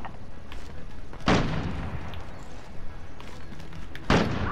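AX-50 sniper rifle shots in Modern Warfare: two separate heavy booming reports a few seconds apart, loud and close, over a low game background.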